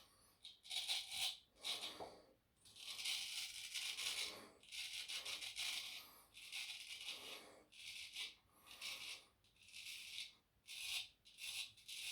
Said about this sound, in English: You can feel that hair whacking off.